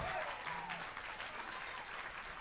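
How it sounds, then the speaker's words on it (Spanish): Church congregation clapping and cheering for the Lord during a Spanish-language worship service, a steady dense wash of applause with voices calling out over it. "alguien dele un aplauso fuerte al Señor."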